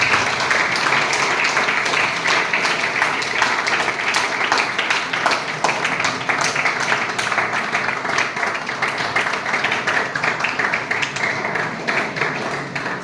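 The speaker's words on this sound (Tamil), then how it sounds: "ஆசிரியர்கள் அனைவருக்கும் சேர்ந்து ஒரு கைத்தட்டலை கொடுத்து விடுவோம்" Students at a college anti-ragging motivational talk applauding the Tamil department teachers, a sustained, dense patter of many hands clapping that stays loud and steady across the whole stretch.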